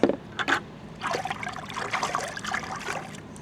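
Rinseless wash concentrate poured from a container into a wash bucket for cleaning aircraft, a thin liquid trickle with short splashy bursts, close up and steady for a few seconds with no talking.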